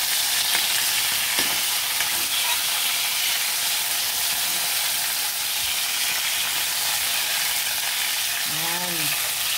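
Chicken pieces browning in a pan for chicken afritada, a loud, continuous close-up sizzle holding steady throughout, with a brief faint tonal sound near the end.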